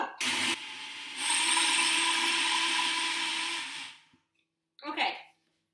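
A blender whirs through a batch of broccoli and cauliflower curry soup. There is a brief burst first, then a long, loud, steady grinding run that winds down, and a final short pulse after a pause.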